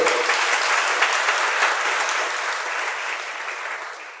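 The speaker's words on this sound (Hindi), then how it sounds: "ये बीच बीच में तो आप लोग ताली बजाते हैं ना" Audience applause fills a hall during a religious discourse by a Jain acharya, a dense, steady clapping from many hands that stays loud throughout and eases slightly toward the end, with no voices over it.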